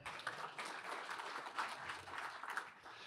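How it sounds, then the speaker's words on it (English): Faint, distant round of applause from an audience at a city's State of the City event, a soft continuous patter of many hands heard from afar in a large room. "Let's give Randy a round of applause in absentia."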